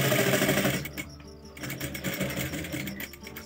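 Sewing machine stitching a shirt collar, a steady close mechanical whir running throughout with a brief slowdown partway, no talk over it.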